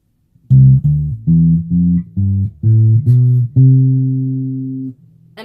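Bass guitar running up a scale one note at a time, each plucked note ringing clearly and alone, ending on a longer sustained final note.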